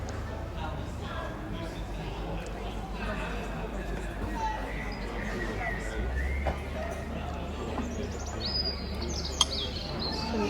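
A blackbird sings with bright, scattered chirps and warbles that echo around a dome, mixed with background chatter and a steady low hum.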